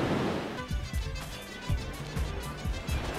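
Sea waves break on a beach in Jalisco, a steady wash of surf with several sharper thumps of water hitting the shore, close and fairly quiet, with no voices.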